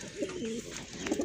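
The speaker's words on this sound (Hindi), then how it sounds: "ये 2 कबूतर हैं, अभी उड़ाएंगे ये आसमानी कबूतर।" Pigeons perched on a wire coo softly in short, low throaty bursts, faint against a breezy outdoor background.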